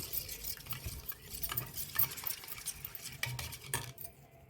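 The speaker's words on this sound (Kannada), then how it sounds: "ಈ ರೀತಿ ಒಂದು ವಿಸ್ಕರ್ನ ಸಹಾಯದಿಂದ ಎಲ್ಲವನ್ನು ಚೆನ್ನಾಗಿ ಮಿಕ್ಸ್ ಮಾಡಿ" A whisk beats an egg mixture seasoned with salt in a bowl, producing quick, continuous scraping and clinking strokes at close range with no talking.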